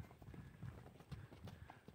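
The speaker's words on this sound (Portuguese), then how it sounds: "Olha o andamento dessa égua aqui. Olha o pisado dela." A mare walks on a rural property, her hooves clip-clopping in a steady, moderately close rhythm of soft thuds, with faint background noise and no speech.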